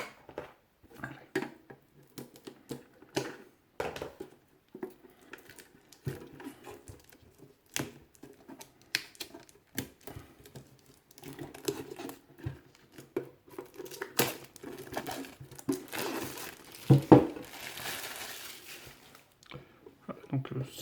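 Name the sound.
opening a Yu-Gi-Oh Mega Tin box and its plastic wrap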